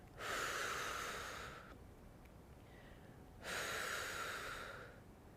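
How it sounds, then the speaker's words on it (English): Two long, forceful breaths out during a weight-lifting exercise, each lasting over a second and separated by a short pause, heard close and loud with no talking. "Exhale on your exertion."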